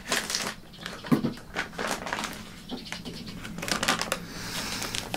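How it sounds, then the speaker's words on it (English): Scissors cut open a packet of Brazilian Moinho Fino coffee, giving close, crisp snips and crinkling plastic rustles in short irregular bursts. "So I'm just going to cut this open now."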